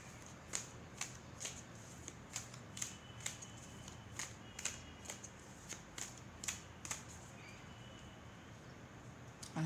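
Tarot cards shuffled for a reading, a quiet run of sharp riffling snaps at a steady rhythm, about a dozen in under ten seconds, with no one talking.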